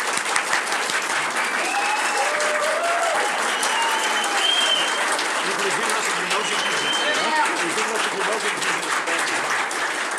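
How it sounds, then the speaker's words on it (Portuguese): Sustained applause from a crowd, steady clapping throughout with cheers and voices mixed in. "Palmas para essas pessoas."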